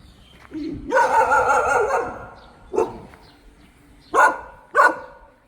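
A dog at a house-building site in Sisaket, Thailand, lets out a long wavering bark-howl up close, then several short, sharp barks spaced apart, loud against a quiet outdoor background.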